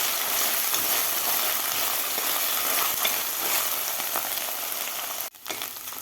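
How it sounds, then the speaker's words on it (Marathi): Chopped onion and ginger-garlic paste fry in a pan for an Indian-style chicken soup, giving a loud, steady, close sizzle that dips briefly near the end. "कांदा आणि अद्रक लसूणची पेस्ट आपल्याला व्यवस्थित परतून घ्यायची आहे 2 ते 3 मिनिट."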